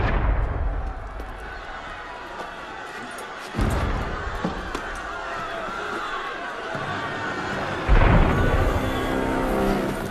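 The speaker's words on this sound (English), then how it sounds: "That was cannon fire." Booming cannon shots in Assassin's Creed Unity punctuate a dense, chaotic game soundscape, with two heavy blasts standing out against a constant rumble and distant commotion.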